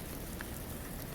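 Steady rain patters on a teardrop trailer, a dense, even hiss of drops holding at one level throughout, fairly close and with no voices.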